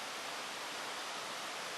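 A brook flowing right beside a campsite on private land, heard as a steady, broadband rushing wash of water that holds an even level throughout, close and continuous with no voices.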